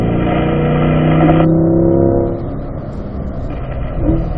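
A car accelerates at full throttle out of a track corner, its engine revving hard and close before easing into a lower, steadier drone.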